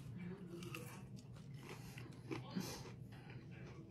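Faint, close crunching and chewing of crispy fast food, likely onion rings, from Harvey's, with soft mouth sounds and a quiet, muffled background.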